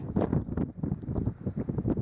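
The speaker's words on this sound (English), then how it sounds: "It's super windy." Strong wind gusts buffet the microphone in low, rumbling bursts on the open plains of eastern Colorado, rising and falling irregularly with no voices.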